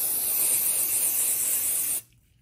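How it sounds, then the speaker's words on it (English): A loud, close continuous aerosol spray of Apple Garde protector onto Vachetta leather hisses for about two seconds, then cuts off abruptly into near silence. "I'm just gonna spray it out."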